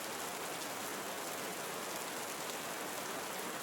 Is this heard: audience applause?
no